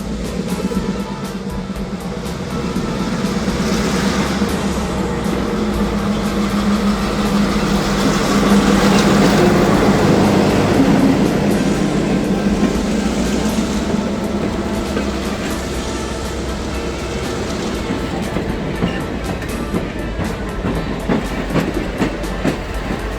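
A train rolls past at close range, a loud continuous rumble with rhythmic clickety-clack over the rails that swells in the middle and stays heavy to the end.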